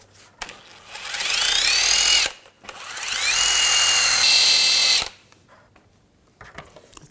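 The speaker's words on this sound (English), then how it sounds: "Ours is pretty rusty, so we're just going to clean this up with a wire brush." A power wire brush scrubs rust off the outer tie rod of a 2011-2018 Volkswagen Jetta, in two loud, sustained whirring bursts of about two seconds each, separated by a short pause, with quieter handling noises afterward.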